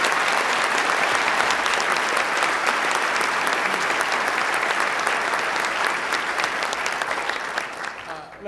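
An audience at a governor's announcement event in Buffalo gives a sustained round of applause, dense and loud, that carries on evenly before tapering off at the very end.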